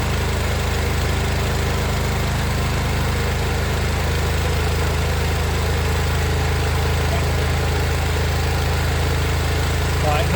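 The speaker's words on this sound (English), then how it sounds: "that's the bubbler just going on" A plasma thunderstorm generator's bubbler runs as a steady, loud engine-like rumble with a continuous low drone and broadband hiss, unchanging throughout, with no one talking.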